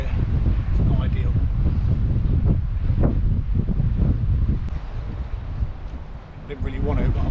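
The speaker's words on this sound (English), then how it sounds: "Wind is just launching through here" Strong wind buffets the microphone on a fishing outing, a loud, constant low roar with gusty swells throughout, while someone talks over it.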